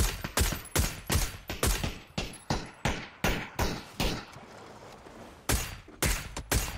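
Video game gunfire rings out in loud, sharp bursts, a string of rapid shots, a brief lull, then several more close blasts.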